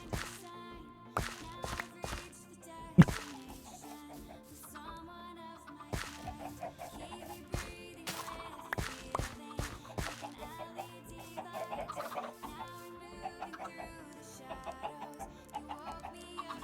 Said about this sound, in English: Oh, we got happy chickens in here.